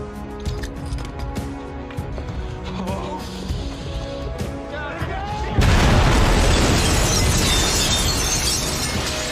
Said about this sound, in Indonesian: tepat di saat bom meledak dan menghancurkan tempat itu